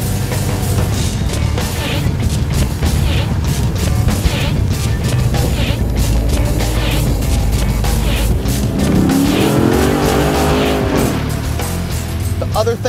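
An old car's engine drones steadily at close range throughout, with road rumble and rattling, while someone talks over the noise.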